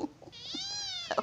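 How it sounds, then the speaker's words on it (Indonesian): Two cats quarrelling, one drawn-out rising and falling meow with rich harmonics, bracketed by short sharp yowls at the start and end, close and fairly loud. "Kucingnya dok gelut."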